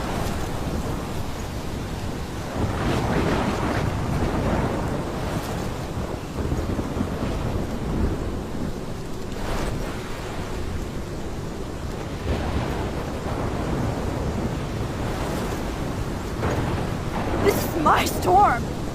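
A storm in the game Life Is Strange, with roaring wind and low rumbling thunder sustained throughout, loud and enveloping beneath a character's voice.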